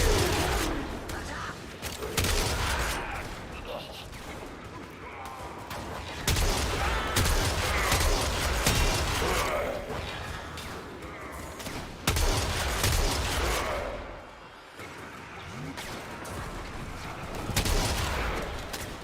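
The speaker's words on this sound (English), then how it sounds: "Clearly I'm firing slugs." A shotgun firing slugs in Warframe, with heavy shots repeating at uneven intervals through a dense, sustained mix of combat noise and mechanical clatter, and a voice talking at times.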